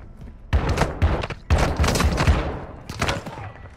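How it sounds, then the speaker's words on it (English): Rapid gunfire in Call of Duty Modern Warfare II, loud bursts of automatic shots in several clusters with short gaps between them, close and punchy, with no talk over them. "Taking effective fire!"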